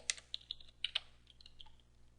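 Someone types a database update command on a computer keyboard in a Linux setting: a quick run of light, close key clicks with small gaps, faint and with no voices.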